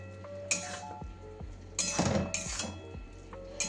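A cooking pot is stirred while poppy seeds simmer, with a few sharp metallic clinks and scrapes of a spoon against the pot in irregular bursts, fairly close, with no talking.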